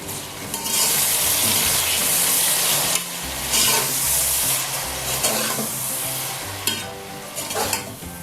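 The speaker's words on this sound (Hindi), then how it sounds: "अब इसमें हम डालेंगे ये 2 बड़े टमाटर मैंने ऐसे छोटे पीसेस में काट के रखे" Chopped tomatoes added to a hot pan for matar aloo vegetable pulao sizzle loudly and crackle as they are stirred, in several bursts of frying noise.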